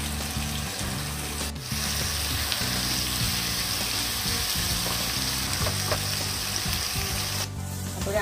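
Bitter gourd sautéing in a pan on a medium flame, a loud continuous sizzle with rhythmic scraping and stirring strokes throughout, close by and without talk.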